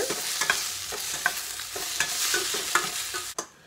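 Tomatoes sizzle in a pan while a utensil scrapes and stirs in a steady, repeated rhythm, close up, with no one speaking.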